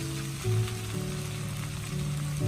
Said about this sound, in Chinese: 把豆瓣酱炒出红油，炒出香味。